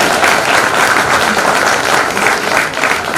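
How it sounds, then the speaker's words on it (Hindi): A live audience at a Haryanvi comic poetry gathering bursts into loud, sustained applause, a thick, even wash of clapping hands that continues for several seconds without talk. "आप लोग एक बार जरा ढंग से ताली बजाते"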